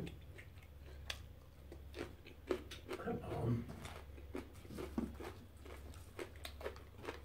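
Someone chews garlic with food close to the microphone, making soft, irregular crunching and biting sounds, with a voice speaking at times.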